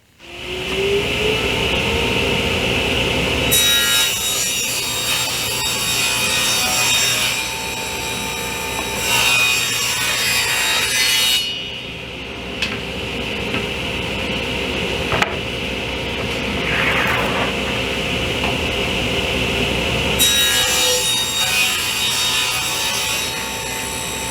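A saw cuts a 3.5 inch piece of wood in a backyard workshop, a loud continuous rasping cut running for long stretches with brief pauses and changes in pitch.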